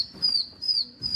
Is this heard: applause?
no